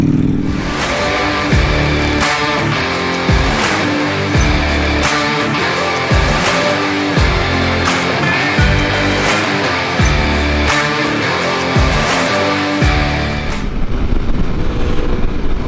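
A 2021 Aprilia RSV4 1100 sport bike ridden hard around a race track on a sunny day, its engine roaring loud and close, revving up and down through gear changes and shifts for the whole stretch, with wind rush over the microphone.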